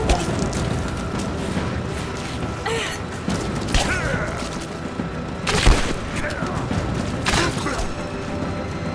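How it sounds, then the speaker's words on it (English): Heavy booms and gunshots in the action game Rise of the Tomb Raider, several loud impacts spaced a second or two apart over clattering mechanical noise and scattered voices. "Gunner, keep firing!"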